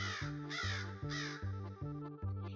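A crow caws in a Fox and the Crow story, about six harsh, evenly spaced caws in quick succession, loud and near, with no voices.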